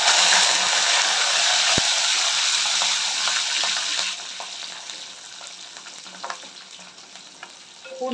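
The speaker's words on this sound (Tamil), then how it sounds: "பூண்டு நல்லா வதங்கட்டும்." Garlic sizzles in hot oil with a couple of broken dried red chillies, a steady loud frying hiss with light stirring scrapes that eases to a softer crackle partway through.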